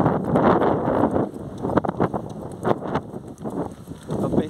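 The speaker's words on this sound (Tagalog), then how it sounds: "Sobrang lakas na ng hangin." Strong gusty wind buffets the microphone during an outdoor barefoot run, in loud, rumbling bursts that rise and fall throughout.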